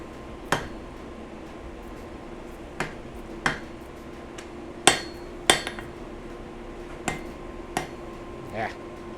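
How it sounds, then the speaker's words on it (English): A hammer strikes hot steel while a knife is forged, with about eight sharp ringing blows at irregular intervals, loud and close over a low workshop hum. "we'll do a little bit of hammering here"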